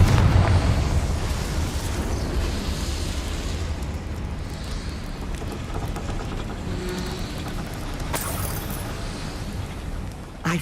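A fiery blast cast in a wizard-world video game, a loud rumbling burst that rolls on as a long, dense roar of debris and crackle, close and filling the scene, ending in a brief sharp crack.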